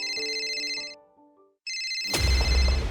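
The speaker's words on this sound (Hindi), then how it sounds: "ये तो हॉस्पिटल से फोन है।" An incoming phone call's ringtone plays loud and close, a bright electronic melody that breaks off briefly and resumes, followed by a burst of noise.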